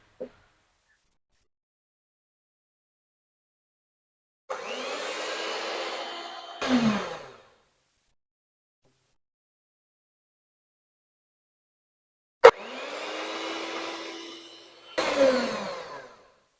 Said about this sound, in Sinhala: අපි මේ බිත්තර 5 3 සැරයකට වගේ දාගෙන මේක ආයෙ සැරයක් හොඳට බීට් කරගමු